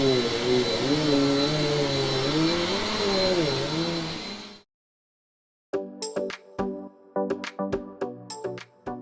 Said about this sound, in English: so let's vacuum and see if there's any difference.